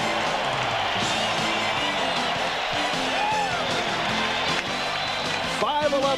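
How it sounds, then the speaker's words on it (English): A basketball arena crowd roars in a loud, sustained wall of cheering after a Kobe Bryant Lakers play, with scattered whoops and clapping mixed into the din. "listen to this crowd"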